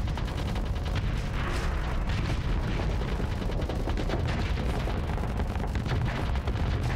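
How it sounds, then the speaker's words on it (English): Vulcan cannons blaze away in the space combat game Starsector, a dense, unbroken stream of rapid gunfire and impacts lasting several seconds, loud and continuous with no voices. "He is slowly getting torn apart by those Vulcan cannons."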